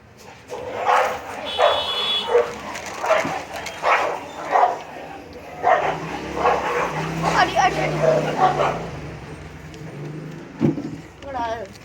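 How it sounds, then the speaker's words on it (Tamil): Dogs fighting in the Granny horror video game, with repeated barks, yips and whimpers in bursts throughout, close and fairly loud, mixed with game effects. "என்ன மாதிரி ஒரு சண்டை நாய்க்கு நாய்க்கும்"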